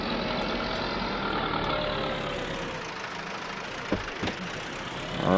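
A Massey tractor engine idles in Farming Simulator 22 with a steady, dense, close mechanical rumble, joined by a couple of brief knocks near the end and a slight rise at the close, with no one talking.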